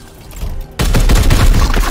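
Gunfire in the video game Warhammer 40k: Chaos Gate - Daemonhunters: after a quieter lead-in, a loud, sudden volley of shots erupts and rattles on in a dense burst to the end.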